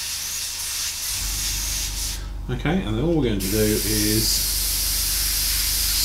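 An airbrush sprays paint onto a Star Destroyer model, giving a steady close hiss that runs throughout while someone talks over part of it.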